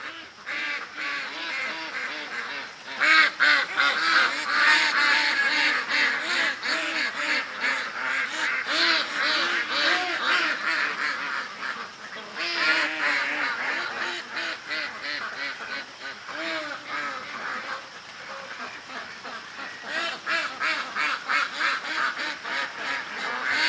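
A flock of ducks quacks and honks continuously, a noisy overlapping chorus of many birds close by that keeps up without pause.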